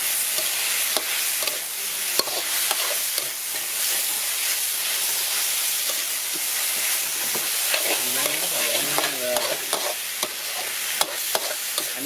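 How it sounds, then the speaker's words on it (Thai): Korat-style rice noodles stir-fried dry with fresh peppercorns in a hot pan, a steady loud sizzle broken by scraping and clinking of the spatula as the noodles are tossed. "อันนี้ก็ผัดแบบแห้งๆนะ"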